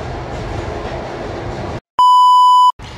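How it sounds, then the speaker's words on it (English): Train passing close by, a steady broadband rumble that cuts out abruptly, followed by a loud sustained electronic beep tone lasting under a second, then the rumble resumes. "Another train's passing by."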